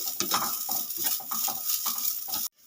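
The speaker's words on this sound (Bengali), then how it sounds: "নারকেলটা একটু হালকা নেড়ে ছেড়ে নেব" Grated coconut being stirred in a hot wok over a medium gas flame, steady scraping and light sizzle with repeated stirring strokes, close and fairly loud, stopping abruptly near the end.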